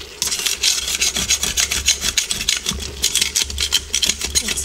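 A utensil scrapes the bottom of an Instant Pot during chicken adobo with low-sodium soy sauce, making close, rhythmic rasping strokes that repeat steadily and loudly without pause.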